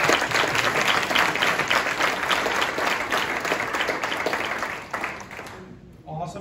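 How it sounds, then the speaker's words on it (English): A university audience gives a sustained round of applause, dense and even for several seconds before tapering off near the end, with a bit of crowd voice mixed in. "let's give Jane and Olivia one more round of"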